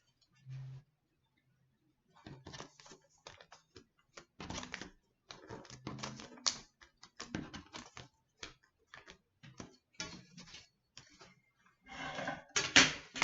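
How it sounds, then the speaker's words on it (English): Magazine paper being folded and creased for a woven berry basket, heard as irregular close crinkles, taps and rustles in short bursts, growing busier toward the end, with no talk. "I'm going to fold up and crease my last side"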